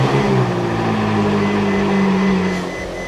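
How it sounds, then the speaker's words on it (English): Ferrari 458 Spider with stock exhaust on a cold start, a loud, steady V8 idle with a high, even tone that eases slightly toward the end. "Cold start, 458 Spider, stock exhaust."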